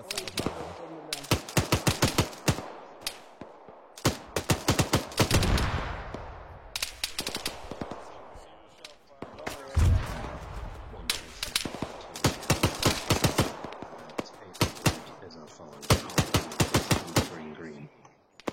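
Machine gun fire from a video game, rapid bursts of sharp cracks in repeated volleys with short gaps between them, loud and close, with a few heavier booms mixed in.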